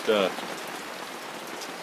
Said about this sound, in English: Started raining about 5 o'clock this morning.